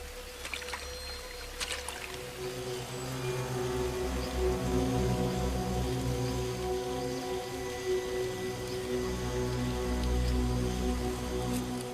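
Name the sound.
rain falling in tropical forest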